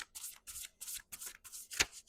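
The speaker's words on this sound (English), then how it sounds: "Have you ever tried to shuffle index cards?" A stack of paper index cards being shuffled by hand, close and quiet, in about seven quick riffling bursts with short gaps, the last one a sharper snap.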